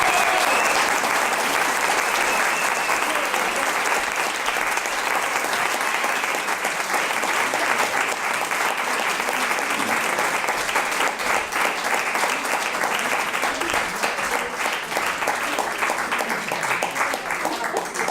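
An audience at a poetry reading applauds steadily and loudly, a dense, even wash of many hands clapping that keeps going without a break for well over fifteen seconds.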